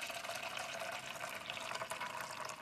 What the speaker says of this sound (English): We fill the tank with very hot water and see how long it takes each paperclip to drop.